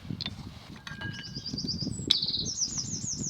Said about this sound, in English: that bird's really happy